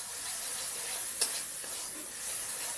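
Masala of onion, green chilli and spices with turmeric sizzling in a pan while being stirred, a continuous close frying hiss with one brief sharp clink partway through.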